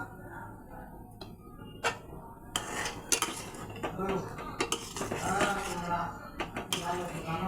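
A spoon clinks and scrapes in a pot as sugar is added to a chutney, with sharp irregular metallic taps close by, and someone speaks over the sounds.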